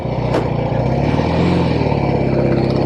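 A vintage Norton Atlas 750 motorcycle engine revs close by with a steady, throaty roar and a brief rise in pitch, loud and without speech.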